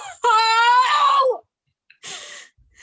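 A man screams in a horror scene: a long, high, strained wail about a second long, then a pause and a shorter, breathier cry, loud and near with nothing else beneath it.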